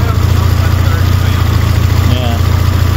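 Suzuki Samurai engine converted to Holley Sniper EFI, held at 4,000 RPM, a loud, steady, close droning buzz with no change in pitch, while people talk over it.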